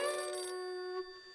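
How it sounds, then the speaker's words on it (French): A cartoon telephone rings with a bright electronic tone, one short burst that cuts off and then briefly sounds again, clear and alone. "Chez les ours bruns, ça sonne, car il y a beaucoup de téléphones"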